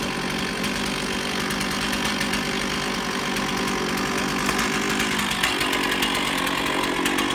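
A chainsaw fitted with a carbide-infused chain, made for cutting residential and commercial rooftops, runs steadily after start-up. Its loud, continuous engine roar is close, with no voices over it.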